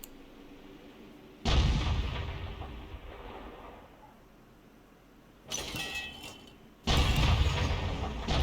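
Heavy booms of a self-propelled artillery gun, a 105 leFH18B2, firing shells in a tank video game. Two loud blasts each leave a rumbling tail, with a smaller thud between them.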